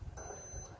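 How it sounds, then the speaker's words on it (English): A continuity tester gives a single thin, high-pitched electronic beep, holding steadily for about half a second, faint and quiet, while checking a Samsung dryer part. "Beeping, that's good."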